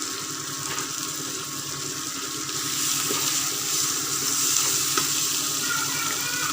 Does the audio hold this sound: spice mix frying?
yes